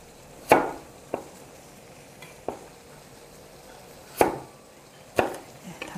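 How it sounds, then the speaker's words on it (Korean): A knife cuts carrots into 1.2 cm pieces on a cutting board while preparing minestrone soup, giving about six separate, irregular chopping knocks with quiet gaps between them and no talking. "당근도 썰어서 준비를 해 놓으시고요."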